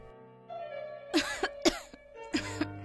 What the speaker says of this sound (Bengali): তুই এত কাশছিস কেন বলতো?